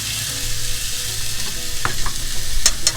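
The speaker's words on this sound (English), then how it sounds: "Next, what we're gonna do is fry up a pound of hamburger." A pound of hamburger meat frying in a pan, with a steady close sizzle and a few sharp scraping stirs near the end, no voices.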